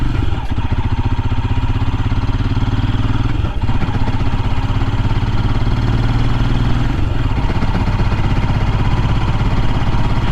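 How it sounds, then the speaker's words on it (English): A 2023 Royal Enfield Scram 411 lugging at very low RPM uphill after an early shift. Its loud, steady, close engine drone has a brief stutter partway through and no talk over it. "Get a little bit of sputter there"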